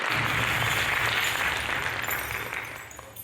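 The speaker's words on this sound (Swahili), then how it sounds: "tupigieni wasanii wetu makofi" An audience at a music launch and artists forum applauding the artists, a dense sustained wash of clapping that gradually fades over a few seconds.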